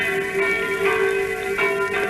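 Bells of a small Normandy village church near Caen ring during wartime. Their resonant tone is sustained, with a couple of fresh strikes swelling over the ongoing hum.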